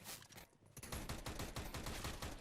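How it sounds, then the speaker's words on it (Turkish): Rapid automatic gunfire in a CS:GO co-op firefight on a community map: a short burst, a brief lull, then dense, continuous rattling fire from several guns at once that stays loud to the end. "Çatışma çıktı."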